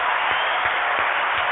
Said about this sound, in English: Everybody clap it up and meet Aisha.